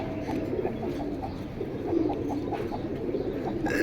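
Caged pigeons coo softly and repeatedly in low, throaty bursts over a constant murmur of background noise at a pigeon sale, with no clear talk.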